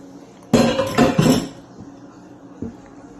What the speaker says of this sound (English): Mix that all up.